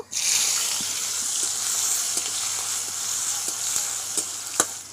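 Dry red chillies, whole cumin and chopped onion hit hot oil in a pan, setting off a loud, continuous close-up sizzle sprinkled with small crackles and pops.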